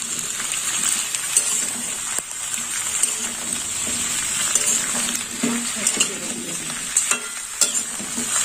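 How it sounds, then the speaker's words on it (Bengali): Cauliflower and mixed vegetables fry in a pan with a steady bright sizzle, stirred now and then with scraping and clinks of a utensil against the pan. "ফুলকপিটা দিয়ে দিলাম। সমস্ত সবজি একসাথে ভেজে নেব।"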